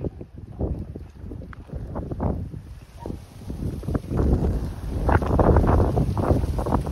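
Steady wind buffets the microphone on a breezy day along the Santorini coast, a loud, gusty rumble that swells and strengthens toward the end, with no voices.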